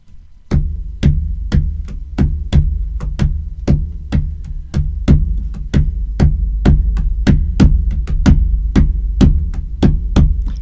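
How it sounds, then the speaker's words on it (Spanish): Candombe porteño drumming pounds out loud, evenly spaced deep drum strokes at a steady walking tempo, each hit a sharp booming thump, with no voices over it. "el candombe porteño suena así"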